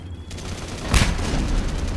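Gunfire in Mass Effect Legendary Edition: a sharp, loud shot bursts out near the middle, followed by lingering low rumble and scattered combat noise.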